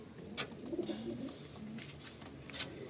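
Pigeons in a loft coo softly in low, repeated, throaty calls, heard fairly close and alone, with a couple of light sharp flutters or taps.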